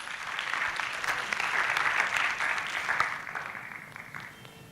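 A youth forum audience gives a keynote speaker a moderate round of applause, a soft, fairly distant patter of many hands that swells in the middle and thins out near the end.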